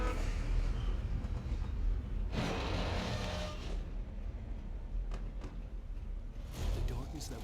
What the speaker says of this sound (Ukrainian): Це потяг.